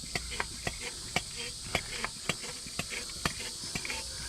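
Pressure escapes from a car cooling system cap during a pressure test, making a continuous hiss broken by sharp, fairly regular ticking pops about twice a second, close up with no one speaking.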